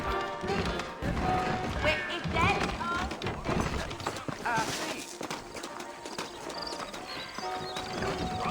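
Saddled horses clip-clop along a trail in the Western video game Red Dead Redemption, a rhythmic run of hoofbeats with an occasional whinny, heard under ongoing speech and game sounds.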